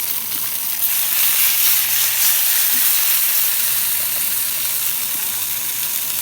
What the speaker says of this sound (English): So I decided to cook up the leftover sausages.